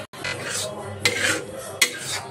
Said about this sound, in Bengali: দেখো এখানে কিন্তু আমি চিলি ফ্লেক্স আর একটু অরিগ্যানো দিয়ে ভালো করে নেড়ে চেড়ে নেব